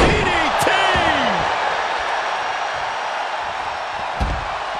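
Wrestler landing a DDT in WWE 2K24 during a Brock Lesnar vs. Cody Rhodes match, a single sharp thud early on, ringing out over a loud arena crowd roar with commentary voices.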